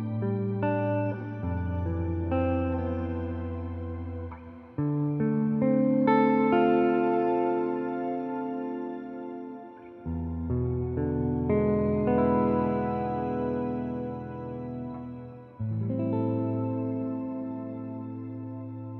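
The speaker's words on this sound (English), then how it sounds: "I was using a shimmer reverb" Electric guitar played through a shimmer reverb on an Orange Rocker 32 tube combo, fully wet, with chords swelling into long, lush, sustained washes and octave-up shimmer, about four chord changes ringing continuously.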